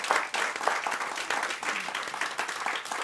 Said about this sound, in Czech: Potlesk, který slyší naši posluchači